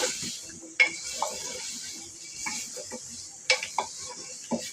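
Marinated meat with spices being sautéed in a pot, a soft continuous sizzle under sporadic scrapes and clinks of a spoon against the metal, with a few sharper knocks standing out.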